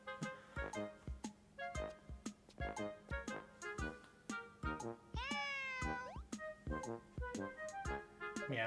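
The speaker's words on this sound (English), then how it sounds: "What was that noise? It sounded like a cat." A cat meows several times in a video game, with the meows repeating in a quick irregular run over soft plinking and rattling game sounds, fairly close and clear.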